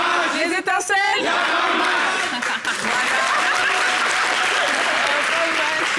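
Audience applause for an applause meter on a French TV weekend show, loud sustained clapping with cheers and whoops, briefly overlapped at the start by a voice before the crowd noise fills the rest.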